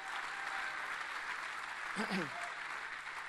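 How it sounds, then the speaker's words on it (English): A church congregation at C3 Church Oxford Falls claps together, a steady broadband wash of applause filling the room, with a brief voice or cheer rising partway through. "so we can clap a bit better than that, can't we?"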